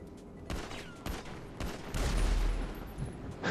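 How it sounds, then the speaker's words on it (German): Explosions and a burst of gunfire in the GTA Online video game, several sharp bangs spread over a few seconds, with a louder rumbling blast building toward the end. "Irgendwas explodiert hier gerade."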